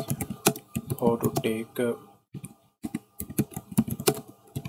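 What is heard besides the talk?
typing C++ code on a computer keyboard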